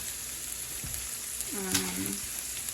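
A steady sizzle of ham frying in a pan fills the clip, with a brief low voice-like murmur partway through.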